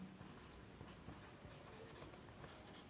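Pen writing on paper during a maths lesson, faint scratchy strokes that come in short repeated bursts close by, quiet and without talk.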